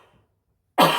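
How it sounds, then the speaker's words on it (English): A single sharp cough bursts out loudly near the end after a moment of near silence. "I'm going to cough, excuse me."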